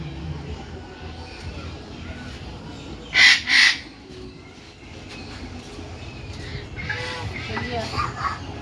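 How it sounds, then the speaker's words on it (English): Birds in a nature park give two sharp, loud squawking calls close together over a steady outdoor background, with people talking nearby. "Oh, there's some birds there."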